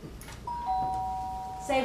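A household doorbell rings with a clear, sustained electronic chime that holds steady for over a second, close and loud above a dim room background with faint muffled voices.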